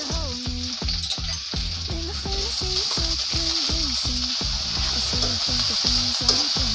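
A cup of spice paste sizzles loudly and continuously in hot oil on a stovetop, cooking down as the base for a chicken filling for bread bun rolls, with no talking over it.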